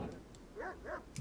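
A dog in the RimWorld video game gives a couple of short, yelping barks in quick succession, fairly faint and small-sounding, with a bit of game noise around them.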